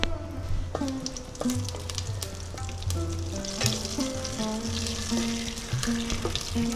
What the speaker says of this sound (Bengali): ফোড়নটা ভাজা হচ্ছে, এই অবস্থায় আমি একটু গোটা গরম মশলা ফোড়ন দিয়ে দেবো